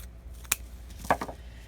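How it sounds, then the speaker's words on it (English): Scissors snipping craft pieces in half for a Halloween witch hat wreath, two or three short, sharp cuts close by and fairly quiet. "Again, I'm just going to cut them in half."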